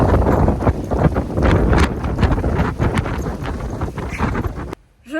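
Strong outdoor wind buffets the microphone in loud, rumbling gusts and ends in a brief near-silence.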